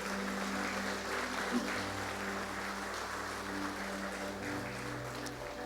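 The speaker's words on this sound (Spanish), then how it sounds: "Alguien le da una ofrenda de palmas al Señor en esta hora." Church congregation claps steadily in a dense, even wash of applause over sustained keyboard chords, moderately loud and continuous.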